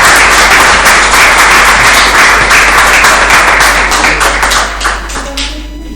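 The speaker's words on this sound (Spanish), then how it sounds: "Así que primero, muchas gracias, Ricardo, fuerte el aplauso para él." Loud, continuous audience applause at a talk on eroticism in old age, dense clapping that holds steady for several seconds and then begins to thin out toward the end.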